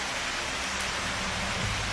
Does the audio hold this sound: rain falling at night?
yes